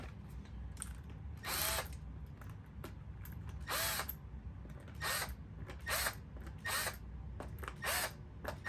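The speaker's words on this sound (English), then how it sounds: "there's all of our holes drilled and cleaned, and now we're ready for the next step" A power drill boring holes for holster mounting hardware, several separate bursts of whirring spaced through the stretch over a steady low background hum, fairly close, with no talking.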